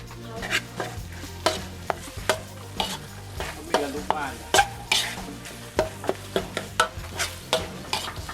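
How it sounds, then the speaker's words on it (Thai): Red curry paste with chili and kaffir lime leaves being stir-fried in a pan, a spatula scraping and tossing in a brisk irregular rhythm of sharp strokes over a continuous close-up sizzle. "พอผัดไปเรื่อยๆนะครับ จนพริกแกง เริ่มมีกลิ่นหอมนะครับ"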